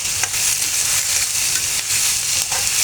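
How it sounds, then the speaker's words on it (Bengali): Onion and tomato frying in a pan for a mashed relish, a steady close hiss of sizzling oil with soft stirring scrapes running throughout, no voices. "2 মিনিট থেকে 3 মিনিটের মতো আমি পেঁয়াজ আর টমেটোটা ভেজে নিয়েছি"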